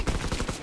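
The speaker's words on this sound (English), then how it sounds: "Covering fire!" Rapid automatic gunfire in Call of Duty WWII multiplayer on the Gibraltar map, a dense burst of about seven evenly spaced shots, loud and close.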